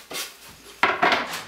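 Homemade bread croutons tumbling into a frying pan, a few dry rattling scrapes and clatters in two quick bursts, close and fairly loud with no talk.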